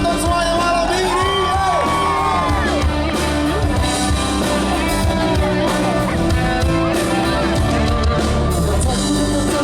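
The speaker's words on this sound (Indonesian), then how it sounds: "Tepuk tangan buat nonton semuanya malam ini" Concert audience cheering, whooping and clapping loudly and steadily throughout, a dense crowd roar at an Indonesian cover performance of a pop song, with shouts rising above it and music faintly underneath.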